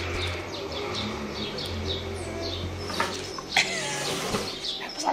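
Rapid repeated chirps from a small bird, a steady series of high tweets close by, over a low hum and background noise.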